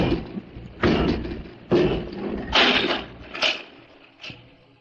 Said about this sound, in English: Come out and close the door, Robot 2.